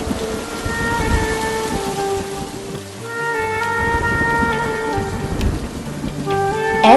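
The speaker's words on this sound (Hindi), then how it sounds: "फिर रात को बारिश बरसने लगी।" Rain falls steadily at night in an animated film, a constant dense patter with a dull rumble of thunder underneath, while soft sustained music tones drift over it, fairly loud and with no voices.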